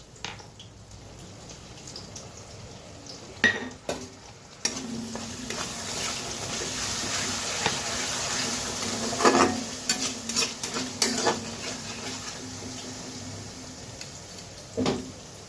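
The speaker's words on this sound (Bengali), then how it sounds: "তাহলে ভালোভাবে নেড়ে নিই" Kashmiri aloo dum with yogurt and a cashew-poppy paste stirred in a pan, a soft sizzle underneath repeated spoon scrapes and knocks against the pan, close and without talk.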